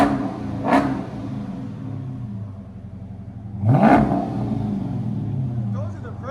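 A 2013 Dodge Charger SRT8 with a 6.4L HEMI V8 and Jones mufflers revs twice outdoors in the snow, each sharp throttle blip rising over a rumbling, choppy idle, heard close and loud.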